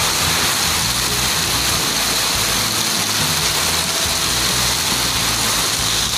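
Heavy rain pours steadily in a dense, continuous hiss, loud and unbroken, with a low rumbling undertone and no talk.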